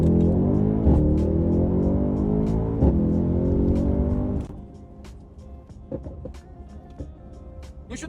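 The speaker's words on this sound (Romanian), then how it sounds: "nu știu dacă se aude la voi acolo și sunetul evacuărilor, dar vă spun eu că este unul demențial" Green Mercedes S63 AMG S-Class exhaust, a deep, loud rev with rising harmonics that drops away after about four seconds into a burbling idle with sharp crackles and pops.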